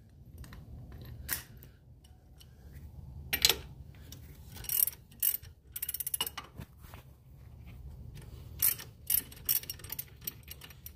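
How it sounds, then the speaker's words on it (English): A hand ratchet loosens the strut tower bolts on a 2006 Pontiac Torrent, giving repeated bursts of rapid metallic clicking with short pauses between strokes and some clanks, close by and without speech. "now of course you take your bolts off of your strut tower."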